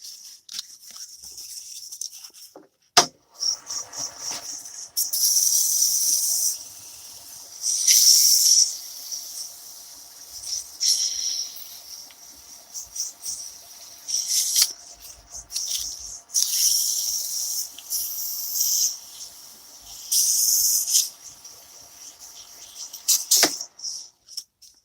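A wooden ring turning on a lathe is sanded in repeated bursts of bright, steady hiss, each pass lasting a few seconds and separated by quiet gaps.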